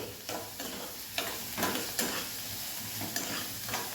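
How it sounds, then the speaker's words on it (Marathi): A mixture with garlic fries in a pan over medium gas, a continuous close sizzle with rhythmic swishing stirs every half second or so. "मिक्स करायचं छान याला गॅस मिडियमच ठेवायचा आहे"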